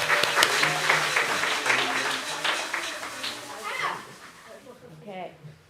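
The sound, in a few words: audience cheering with noisemakers and pom-poms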